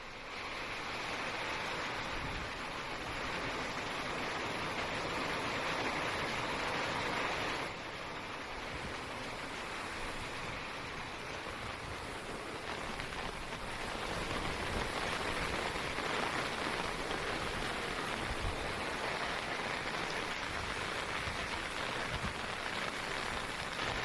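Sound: incessant rain and floodwater flooding a village road

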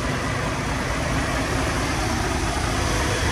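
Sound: 1948 Chevrolet Stylemaster engine idling

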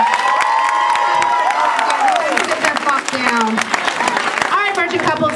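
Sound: audience applause

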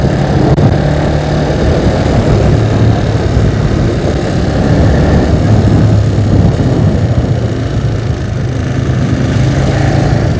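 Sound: motorcycle engine with PWK 62mm carburetor at quarter throttle

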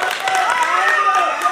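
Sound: audience applause for Claudio

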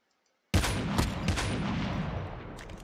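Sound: gunfire in a battle royale video game

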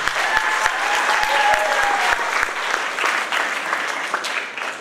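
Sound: audience applause

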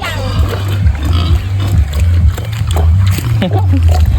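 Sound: pigs eating wet feed of bran, corn feeds and supplement

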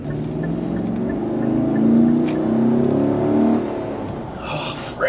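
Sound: car engine revving with engine mount banging

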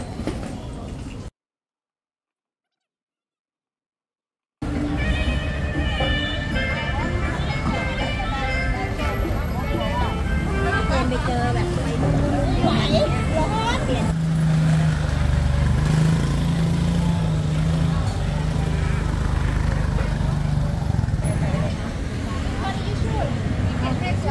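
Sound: Ducati Monster motorcycle engine with dual exhaust

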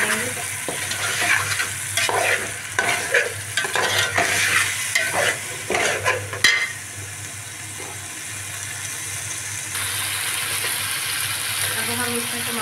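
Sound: stirring ginger garlic paste and green chilli frying in a pot

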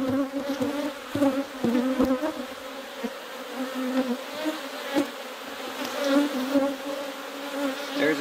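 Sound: honey bees buzzing in an opened beehive

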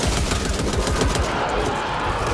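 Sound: gunfire in the video game Back 4 Blood

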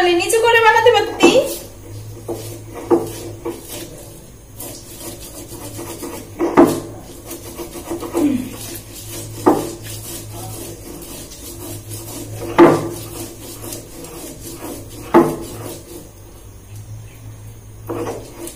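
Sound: grinding onions into paste by hand

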